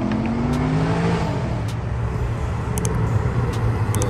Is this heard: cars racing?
yes